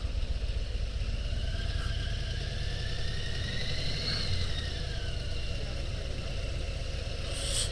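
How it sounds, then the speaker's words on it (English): A 2022 Low Rider ST motorcycle engine drones steadily while riding, with a constant rumbling tone and rushing wind, close and continuous with no speech. "It's all pretty much all engine sound."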